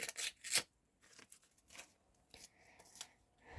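A paper surprise packet is torn and opened up close: sharp crinkling rips in short bursts, then softer rustling and handling of paper, with quiet pauses between.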